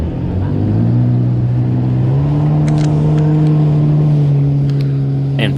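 A boat engine runs at full throttle on open water, a steady loud drone whose pitch climbs in the first two seconds and then holds high and constant, with faint spray and rattle above.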